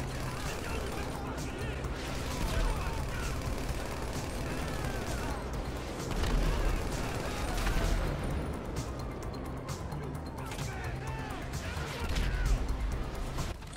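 Gunfire in Grand Theft Auto Online during a gang attack, a dense, continuous battle din of overlapping shots and crashes under people talking throughout.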